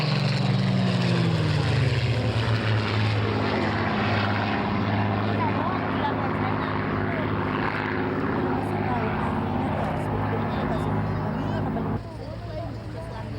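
A Merlin-engined Mark 16 propeller aircraft drones loudly overhead at an airshow, pitch dropping as it passes, a sustained rich roar that eases slightly near the end.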